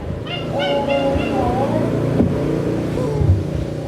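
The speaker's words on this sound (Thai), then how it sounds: "รถมันเลยผ่านเยอะก็เลยเสียงดัง" Heavy road traffic rumbles steadily past a busy Thai temple fair, with engines revving, a horn-like honk and chirping bird-like cries layered over the continuous roar at close range.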